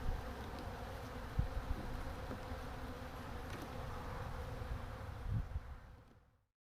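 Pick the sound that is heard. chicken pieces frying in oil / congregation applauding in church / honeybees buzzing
honeybees buzzing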